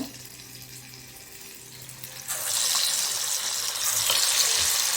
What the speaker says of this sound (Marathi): आता ही भजी सोडून दाखवते तेल पण टाकलं आहे